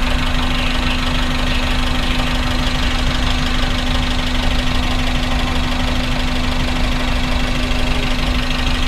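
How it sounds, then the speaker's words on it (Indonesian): A Suzuki Mega Carry 1.5 pickup engine idles steadily and loudly up close, with a constant hum and a rough, knocking mechanical texture throughout and no talk. "Suara mesinnya pun masih langsam enak ya"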